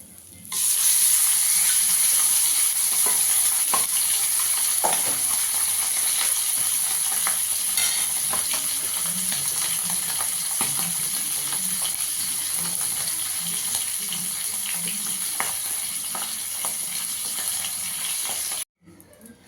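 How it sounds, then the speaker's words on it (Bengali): Bacha fish frying in hot oil, a loud, dense, continuous sizzle with scattered crackles and spatters that carries on steadily before cutting off abruptly near the end. "একইভাবে আর একটা মাছ আছে, সেটাও ভেজে নেব।"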